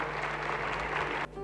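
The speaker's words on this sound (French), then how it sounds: "ça, on peut l'applaudir" Audience at a sports trophy ceremony applauding a European championship bronze medallist, a short burst of dense clapping that cuts off abruptly.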